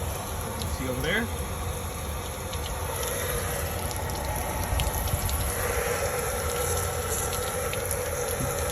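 Water from a garden hose flushes out through a car's rocker panel drain holes, a continuous rushing and splashing that stays steady throughout with a faint hum underneath.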